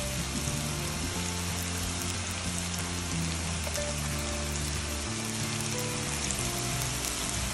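Sticky rice cakes filled with mung beans fry in a shallow layer of oil, giving a steady, dense sizzle and crackle that holds close and even throughout, with no voices.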